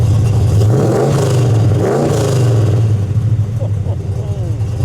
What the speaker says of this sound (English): Rick, give it a rev.